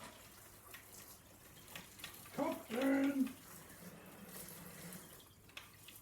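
Water runs from a tap while caring for big African land snails, a steady soft hiss through the whole stretch, with a voice briefly calling out over it partway through.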